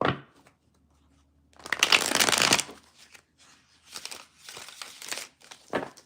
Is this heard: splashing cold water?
no